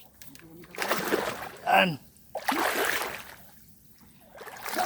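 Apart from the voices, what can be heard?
wading across a stream, splashing water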